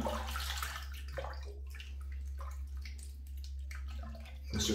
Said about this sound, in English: Give that a rinse.